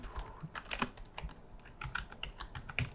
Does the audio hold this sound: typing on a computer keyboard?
yes